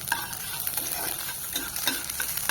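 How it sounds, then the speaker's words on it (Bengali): Whole cumin, dried chillies and a little ginger sizzle steadily in hot oil for a tempering, a close, continuous hiss with light crackles and occasional stirring taps, no voices. "এবার ওই তেলে গোটা জিরে, শুকনো লঙ্কা আর সামান্য আদা দিয়ে দেবো।"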